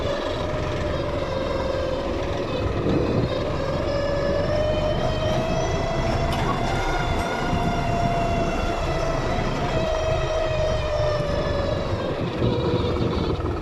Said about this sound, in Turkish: Dört çekerden çıkaralım traktörü ses yapmasın giderken.